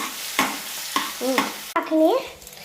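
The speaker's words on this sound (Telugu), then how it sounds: "ఇలా కరివేపాకుని వేసుకుంటున్నాం. కరివేపాకు వేసుకున్న తర్వాత బాగా కలుపుకోండి." Curry leaves are stirred into a sizzling pan of tomatoes for a Yippee noodle dish. Several sharp scraping spoon strokes ring out up close over a steady fry, with brief squeaky tonal scrapes and no talk.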